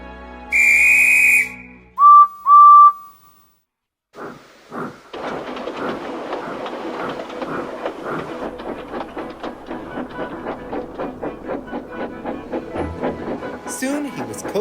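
A small steam locomotive, Edward, gives a loud two-tone whistle, a few short toots, then a gap before his wheels settle into a steady clickety-clack rhythm down the main line that carries on to the end.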